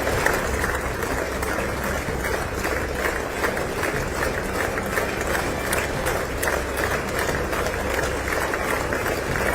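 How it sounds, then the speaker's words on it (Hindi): A large crowd gives sustained, dense applause welcoming Indian Prime Minister Modi at a diaspora gathering, a continuous roar of clapping with cheers mixed in. "जोरदार तालियों से प्रधानमंत्री का स्वागत।"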